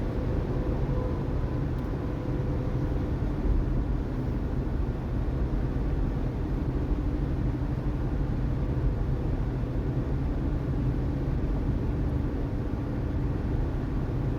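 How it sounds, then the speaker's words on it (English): Steady low rumble of a car engine and road noise, constant and muffled as if heard from indoors, with no voices. "I can hear the car now."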